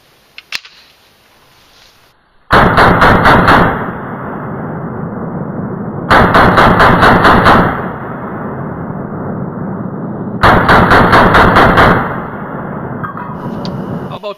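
A Ruger Mini 30 rifle chambered in 7.62x39 fires in three separate bursts of rapid shots, loud and sharp, with quiet gaps between the bursts and no talk.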